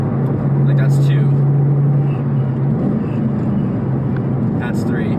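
Ford Mustang 2V with a cat-back exhaust and manual gearbox, held at 3000 rpm: a steady, loud exhaust drone with a constant low tone that holds throughout.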